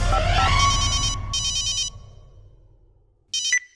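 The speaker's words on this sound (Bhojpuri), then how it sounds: "फोन लगाया जाए गाजीपुर" A telephone ringtone sounds as a call is placed during a comedy quiz-show sketch, bursts of a bright electronic ring pulsing in short rhythmic groups with a gap before a final short burst, loud and close, with no talking.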